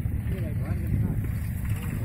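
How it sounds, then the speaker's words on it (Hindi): A combine harvester cutting paddy rice in a field gives a steady, low engine rumble and mechanical drone, with a person talking over the machine noise. "आज मैं आपको दिखाऊंगा हार्वेस्टर मशीन को जो कि धान की कटाई कर रहा है।"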